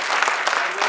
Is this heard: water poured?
no